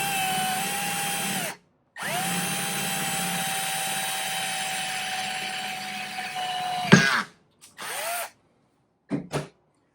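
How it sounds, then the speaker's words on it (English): A power drill bores a hole in wood guided by two blocks set at a right angle, a steady high whine running for several seconds, pausing, then resuming before short bursts and stops, loud and close with no talk. "Put your drill bit right in the corner there."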